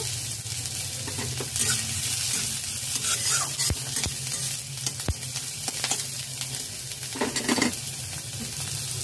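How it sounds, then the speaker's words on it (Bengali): Chopped green chili and coriander leaves are stirred and fried in a pan for eggplant bharta, with a steady close sizzle and scraping stirring strokes plus a few sharp utensil clicks, no voices. "ধনে পাতা কুচি 1 টেবিল চামচ, নাড়াচাড়া করে লালি লালি করে ভেজে নিয়েছি।"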